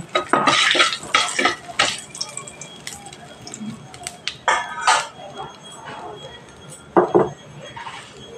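A spoon scrapes and clinks against a pan as a tempering of spices and a dried red chilli is stirred and fried for a vegetarian okra in mustard-poppy seed dish. The clatter comes close in quick bursts, sometimes sparse, with soft sizzling between.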